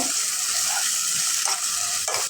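Chopped onions fry in oil in a pan, a constant bright sizzle with a few scraping stirs from a spoon near the end, close and loud with no talk.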